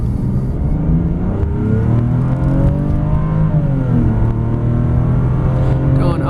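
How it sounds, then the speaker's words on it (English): A 1999 Mercedes-Benz W140 S-Class accelerating from a standstill, with a steady, rising engine drone heard from inside the cabin, continuous and even throughout, with no talk. "This will be an acceleration pull as we go from a complete stop at 0 miles per hour and see how this vehicle pulls."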